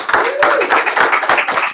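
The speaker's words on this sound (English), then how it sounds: "Give a round of applause." A small group gives a brief round of applause after a low back pain exercise demonstration, with a short burst of close, rapid hand claps.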